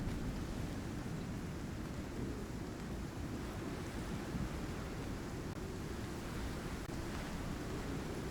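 Storm wind in Icarus, a dense, loud roaring rush with low rumbling, steady and unbroken throughout, no voices.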